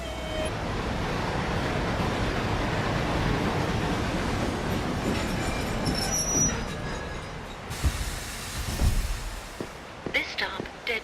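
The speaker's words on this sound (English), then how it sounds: "Go ahead and board the train." A video-game train rolls along its rails with a steady rumble and faint wheel squeals, then eases into quieter clacks and knocks near the end, with a voice heard over it.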